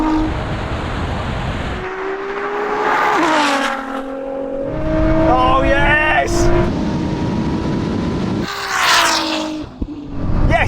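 A Ferrari SF90 and a 1000-horsepower Nissan GT-R launch side by side in a drag race, engines roaring and rising in pitch through the gears as they pull away, with excited voices shouting over the noise.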